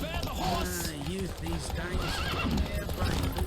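Horse race in The Witcher 3: hooves clip-clop at a galloping pace while a horse neighs and whinnies, close and loud, with voices talking over it.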